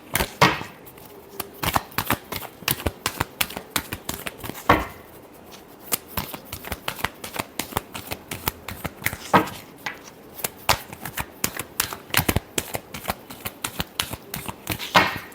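A deck of tarot cards is shuffled close up in rapid, uneven bursts of crisp riffling snaps with short pauses between them.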